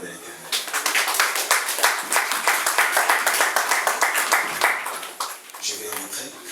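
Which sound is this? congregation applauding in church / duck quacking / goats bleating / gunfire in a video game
congregation applauding in church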